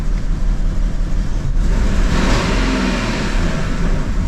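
A used Audi A6 with an automatic gearbox and a misfiring engine runs steadily close by, its low drone swelling into a brief rev midway and then settling back.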